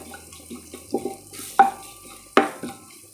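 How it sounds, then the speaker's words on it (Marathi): Curry leaves and spices sizzle softly in a pan while a spoon stirs and scrapes, giving a few sharp metallic clinks. "आपल्याला हे छान असं परतवून घ्यायचं आहे फोडणी"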